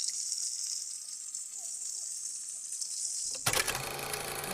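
Onions fry in oil left over from frying chanda fish, a steady close hiss of sizzling that swells into a louder, crackling sizzle toward the end.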